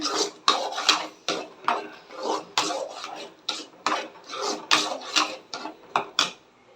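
Roasted cashews and raisins being stirred into bread halwa in a pan, a spoon scraping and clinking against the metal in a steady series of close, repeated strokes with brief pauses, no talking.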